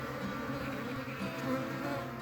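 Honey bees in a hive hum in a dense, steady buzz, a close-up drone of many insects with no pauses.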